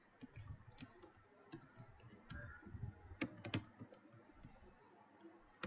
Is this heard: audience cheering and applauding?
no